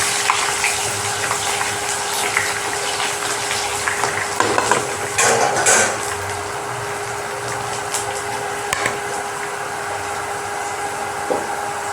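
Papaya and carrot pickle with ginger and garlic being stirred in a pan, a soft, wet sizzle under scattered scraping and clinking from the spoon, with a few louder stirs partway through.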